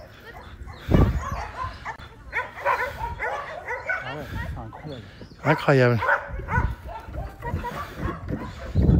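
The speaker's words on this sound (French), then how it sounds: "Elle est gentille cette chienne, n'empêche." A female dog whimpers and yips in high, whining bursts, with one sharper bark-like yelp midway, while a person talks over and between the sounds nearby.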